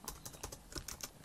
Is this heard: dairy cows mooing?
no